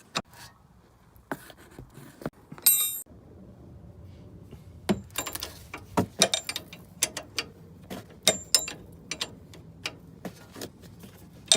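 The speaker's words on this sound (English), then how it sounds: "this is a 16mm spanner on the back of that, and that should come, start loosening off." A 16mm spanner working a bolt loose on the rear brake of a Mercedes A207 E-Class, sharp metallic clicks and ratcheting taps, sparse at first and then in quick irregular bursts, close and alone.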